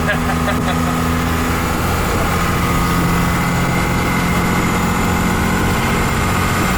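Cummins diesel engine in a Boss Hoss van roars loud and steady under load while accelerating up through the gears, a dense continuous drone with a shifting tone and no clear pause between shifts.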